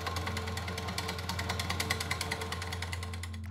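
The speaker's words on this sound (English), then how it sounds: "don't run the drill too quick" A power drill slowly cuts a hole through carbon while fitting a gunsmith adapter, giving a steady, close droning whine with a faint rhythmic chatter throughout.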